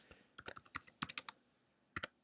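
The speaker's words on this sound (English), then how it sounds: "I'm going to just type in" Quiet, crisp keystrokes on a computer keyboard, a quick run of taps then a brief pause and two more presses, close and alone.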